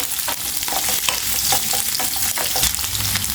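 Small onions and garlic sauté in a hot pan, a dense crackling sizzle broken by scraping stirs, close and loud with no voices.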